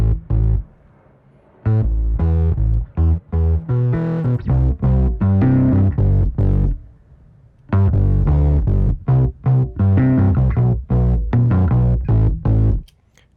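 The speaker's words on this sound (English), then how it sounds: "going into the Kramer, that's really going to add some nice distortion for the bass" A bass guitar through a Kramer distortion plugin in Ableton plays loud, gritty, punchy notes in a steady lo-fi groove, with two brief pauses and an abrupt stop.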